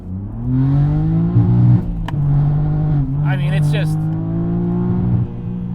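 A BMW G80 M3 fitted with a high-flow air intake launches and accelerates, its engine droning loudly and steadily rising through gears with a brief shift break, while someone talks over it.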